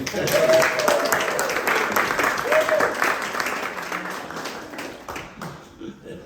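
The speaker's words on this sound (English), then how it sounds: "So can you guys all give yourself a round of applause?" An audience at a presentation gives itself a round of applause, sustained dense clapping from a crowd with voices and a couple of whistles mixed in, tapering off near the end.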